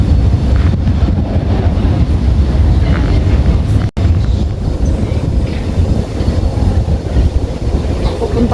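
Busy ambience inside New Gapi train station in Budapest while riding an escalator: a steady low rumble with wind-like noise, continuous and fairly loud, with a brief dropout partway through.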